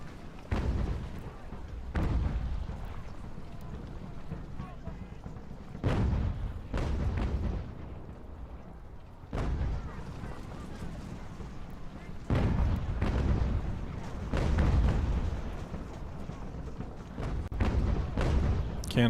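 Canister and artillery fire in Ultimate General: American Revolution, a string of heavy booms and cannon blasts at irregular intervals, some close and loud, others rumbling farther off, with voices faintly in the mix.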